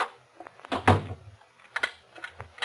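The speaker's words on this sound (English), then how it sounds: "Close the door." A door swings shut with a solid thump and rattle near the start, then a few quieter knocks and shuffles follow in an indoor room. No one speaks.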